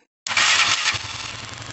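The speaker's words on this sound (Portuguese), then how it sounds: "ligar a moto, né?" A small motorcycle, just fitted with a new CDI ignition unit, bursts into life after a moment of silence with a sharp start, then settles into a steady, close-up idle.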